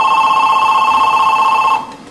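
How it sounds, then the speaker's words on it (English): A telephone rings with a steady electronic tone for about two seconds as an internet call from Free World Dial-Up comes through, then cuts off, leaving a faint background hum. "Free World Dial-Up has instructed my phone to tell this one to ring"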